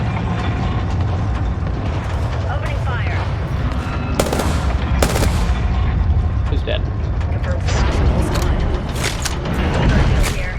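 Rapid gunfire and explosions crackle loudly through a video game battle, bursts of shots and booms layered over a dense, constant din of combat.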